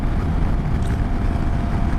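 Strong, steady South Dakota wind roars and buffets across the microphone in a continuous low rumble, with no voices.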